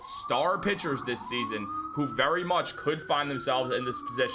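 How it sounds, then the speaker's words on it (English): A siren wails continuously in the background, its tone slowly rising and then falling, while someone talks steadily over it. "If you hear the sirens outside"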